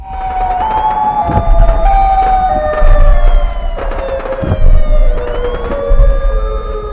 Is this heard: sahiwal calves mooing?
no